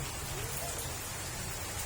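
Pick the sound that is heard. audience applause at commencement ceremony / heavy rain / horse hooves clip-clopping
heavy rain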